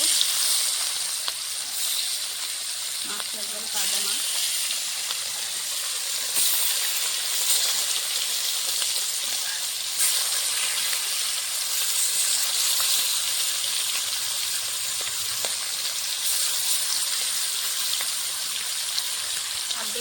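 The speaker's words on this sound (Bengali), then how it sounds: "হলুদ নুন লঙ্কার গুঁড়ো মেখে রাখা মাছটা এখন ভেজে নেব" Rohu fish rubbed with turmeric, salt and chili powder sizzles in hot oil, a steady bright hiss that runs through the whole stretch while someone talks quietly over it.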